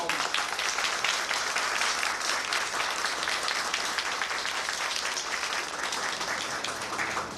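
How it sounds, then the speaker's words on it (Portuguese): Audience at a literary society ceremony breaking into a round of applause, a dense continuous clatter of many hands that stays loud and even throughout. "para que eu peço uma salva de palmas."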